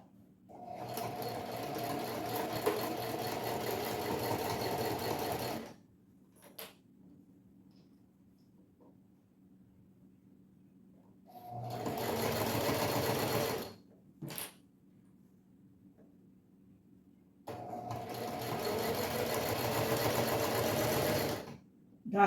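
A sewing machine stitches close to a fabric seam in three separate bursts of rapid mechanical whirring, each lasting several seconds, with quiet pauses and a soft motor hum between them.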